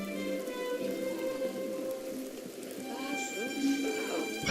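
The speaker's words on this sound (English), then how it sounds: "Fuck's sake, this stupid rain." Steady rain falls in The Sims 2, a continuous soft patter running throughout with some speech-like game sounds and tones layered on top.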